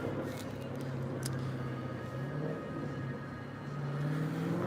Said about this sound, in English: he screeched his tires and revved his engine.